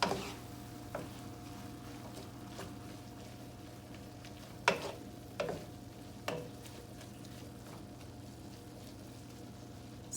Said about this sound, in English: So I'm gonna switch it off right now and then stir it again.